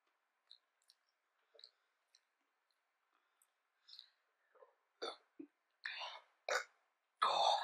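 Soft burps and wet mouth noises come from someone eating a breakfast tart up close, in scattered short bursts that grow louder and more frequent toward the end.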